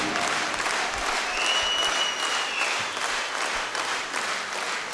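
Loud, continuous applause from a folk music concert audience at Potcoava de Aur 2019, clapping for each member of the Advakov brothers' orchestra, a dense steady wash of hands with no break.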